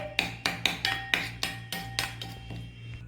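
A spoon clinks against a bowl while chicken shawarma marinade is mixed with soy sauce: about ten sharp, close metallic taps in a steady rhythm, with no talking.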